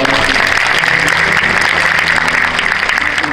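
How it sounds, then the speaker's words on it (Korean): A church congregation applauds during a thanksgiving service, close, dense and even clapping throughout that eases slightly near the end. "다시 한번 박수로"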